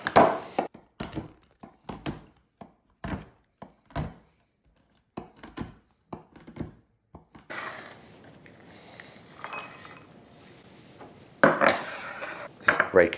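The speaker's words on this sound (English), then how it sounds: "Then we can chop up the remaining chocolate." A knife chops a chocolate bar on a board in a string of separate wooden thunks and knocks, followed by a stretch of softer scraping and a few more firm hits.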